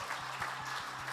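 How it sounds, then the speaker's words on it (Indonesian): Brief, dense clapping from a church congregation during a worship service, an even burst of applause with no speech over it. "Beri tepuk tangan saudara."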